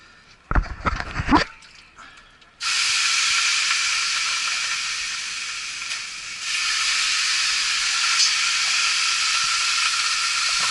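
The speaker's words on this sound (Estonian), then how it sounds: "Pane üks väike leil siis veel." Water thrown on hot stones in a tent sauna sends up a loud, sustained steam hiss after a few brief clatters, close by and continuing steadily for several seconds without speech.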